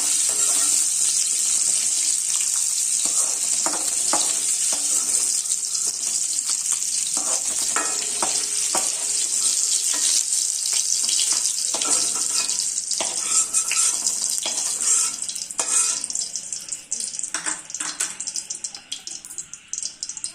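Raisins sizzle in hot ghee in a pan while pumpkin halwa is being made, with a steady bright frying hiss and occasional scrapes of stirring. The sizzle carries on loudly throughout and thins slightly near the end.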